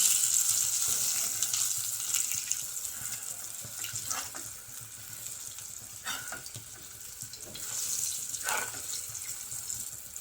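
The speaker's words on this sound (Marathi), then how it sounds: "मस्त दोन्ही बाजूने खरपूस तळून घ्यायचं" Fish pieces coated in jowar flour and salt fry in hot oil until crisp on both sides, giving a faint, steady sizzling hiss with a few soft clicks and stirring sounds.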